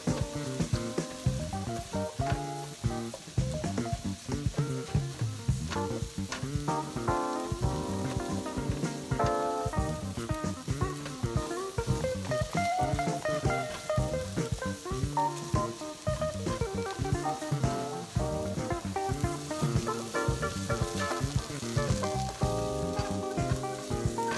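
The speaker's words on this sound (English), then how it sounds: "Now let's break the eggs with a spatula and mix with the rest of the ingredients" Beaten eggs for shrimp fried rice are broken up with a spatula and stirred with the other ingredients in a hot pan, giving a loud continuous sizzle with scattered scraping and clinking strokes throughout.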